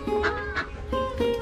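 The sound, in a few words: ducks and chickens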